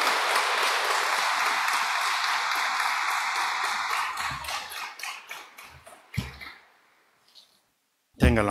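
Congregation applauding God during a Sunday Mass in a church: dense clapping from a crowd that thins into scattered individual claps, then fades to near silence before a brief sharp sound at the end.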